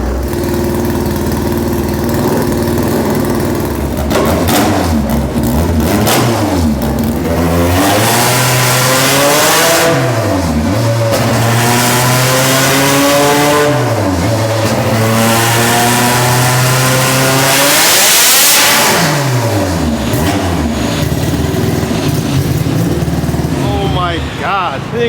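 An all-motor Honda Civic with a K-series engine revs hard, its pitch climbing and dropping through several sharp rises as the tire spins. The car is loud and close, and voices sound over it.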